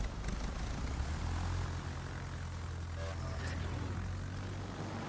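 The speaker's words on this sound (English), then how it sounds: "And let's get the plane up." A plane's propeller engine drones steadily in the World of Warships game after the aircraft is launched, a continuous low hum heard at moderate distance throughout.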